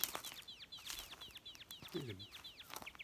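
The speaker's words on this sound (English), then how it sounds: "Great, this bird life out here." Birds in Australian woodland repeat quick chirping calls in a steady rhythm, faint and distant, with a brief lower croaking call partway through over soft outdoor background.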